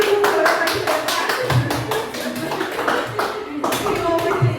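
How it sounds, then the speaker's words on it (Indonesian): Classroom audience clapping hands together in a steady run of sharp, close claps, with children's voices mixed in underneath. "Oke, tepuk tangan untuk Putri."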